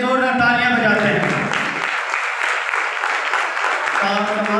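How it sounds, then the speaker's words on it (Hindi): A church congregation at a one-day seminar claps together in a steady wash of applause while a voice talks loudly over it. "आए पर फिर से यीशु नाम के लिए जोरदार तालियां बजाते हैं।"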